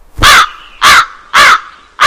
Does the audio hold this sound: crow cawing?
yes